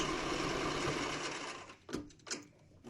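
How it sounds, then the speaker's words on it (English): A sewing machine running a reverse stitch along a fabric edge, with a steady close mechanical whir that slows and stops, then two brief motor bursts, alone without talk. "you want to reverse stitch when you get to the edge"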